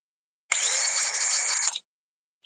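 A DeWalt power drill in hammer mode whirs at high speed with a rapid buzzing rattle for about a second, then stops abruptly.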